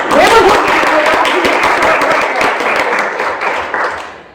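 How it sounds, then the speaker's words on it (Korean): A room of attendees at a Korean beauty seminar breaks into loud, close applause, with a couple of excited voices rising at the start before the clapping gradually tapers off. "일단 박수!"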